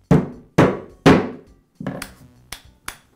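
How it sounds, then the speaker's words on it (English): Rubber mallet taps a cap onto the shaft of a Makita reciprocating saw during bearing repair: three heavy, dull thuds with short decays, then four lighter, sharper knocks, close and with no speech. "I'll place the cap over the shaft and tap it into place with a rubber mallet."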